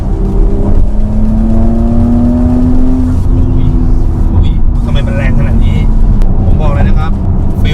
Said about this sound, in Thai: ให้ฟังเสียงท่อ นุ่มและเงียบมาก